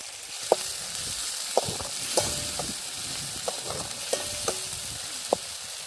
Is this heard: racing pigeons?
no